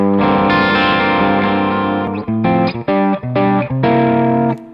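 Electric guitar runs through a REVV D20 amp on its pentode/triode setting, giving a distorted tone: a held chord, then several short choppy stabs, then a final ringing chord.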